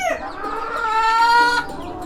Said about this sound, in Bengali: এই যে এখানে আছে মুরগি